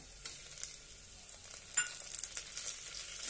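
Tomato sautés in oil with ginger-garlic paste for vangi bhat, giving a quiet crackling sizzle broken by sharper spatula scrapes and stirring ticks, one louder clatter partway through; no voices.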